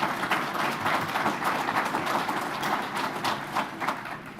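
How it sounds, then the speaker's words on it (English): A crowd applauds at an electric cooperative's annual meeting, a dense, steady patter of many hands clapping continuously and fairly loud throughout, without any talking. "Give them a round of applause."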